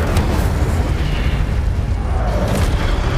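A booming, burst-like fire spell erupts in a fantasy action game, a loud, dense whoosh with no talk that fills the whole short moment.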